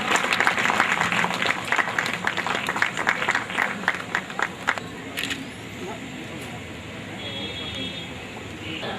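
Audience clapping loudly at an award ceremony, dense applause that thins out and fades to scattered claps and background murmur after a few seconds.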